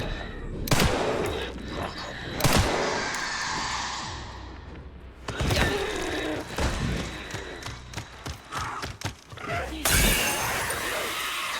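Gunshots in the video game Resident Evil Requiem, a few sharp loud bangs spaced several seconds apart amid crashing, shattering impacts and tense ambience, with occasional talk.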